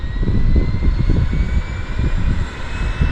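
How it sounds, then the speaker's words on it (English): PT6 turboprop engines of floatplanes starting up at a downtown harbour airport in Vancouver, a steady loud rumbling drone with faint high whine tones running continuously throughout, no talk. "Okay, it's PT6 action time. They're starting engines."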